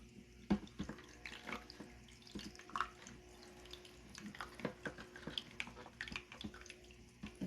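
Water runs from a tap in the background, a faint, steady trickle with scattered drips and small clatters across the whole stretch, and no voices.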